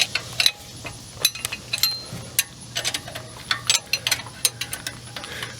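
A hand ratchet clicks in quick, uneven bursts, close and crisp, as bolts are loosened to remove a one-barrel carburetor.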